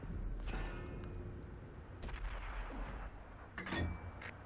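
Tank cannon shots in a tank video game with an AMX Chaffee scouting on South Coast, a few muffled booms spaced over several seconds against a steady rumbling background.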